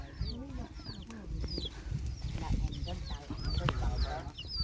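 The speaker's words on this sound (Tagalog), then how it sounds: "marami silang alaga ditong manok" Several chickens cluck and squawk repeatedly in quick, overlapping calls, moderately near, with faint voices and background noise underneath.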